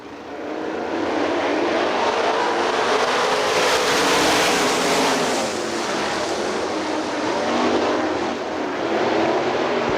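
Sprint cars in a heat race at Hartford Speedway Park roar out of turn 4, a loud continuous engine blare that swells and fades slightly as the pack passes, with no voices over it.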